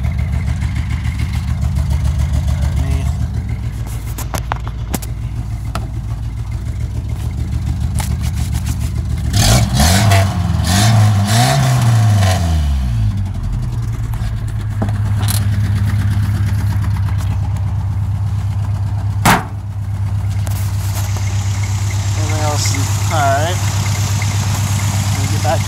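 An old truck engine with a carburetor idles steadily in neutral, then revs up and settles back into a loud, even idle, with brief talking over it.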